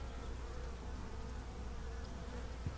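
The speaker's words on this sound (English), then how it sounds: "Like this one still got a lot of bees in it." A steady, dense buzzing of many bees in a hive hums continuously up close, a low droning swarm sound with no talking.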